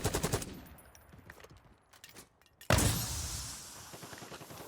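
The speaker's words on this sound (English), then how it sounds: "Hey, Dion, what was that shot?" Gunfire in a battle royale video game: a quick run of rapid shots at the start, scattered quieter pops, then a sudden louder burst of noise. The whole clip is fairly faint, with no talk.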